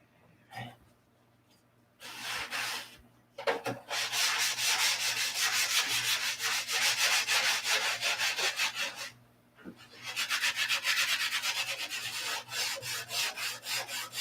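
Wood being sanded by hand, with close, loud rasping strokes in long continuous runs broken by short pauses and a few brief scrapes in between.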